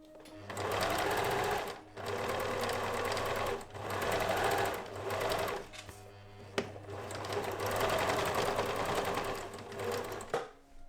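Sewing machine stitching a quilt, close and steady, running in bursts of one to three seconds separated by short stops, with a click between runs.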